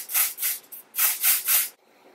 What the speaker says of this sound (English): And then I like to spray my brush.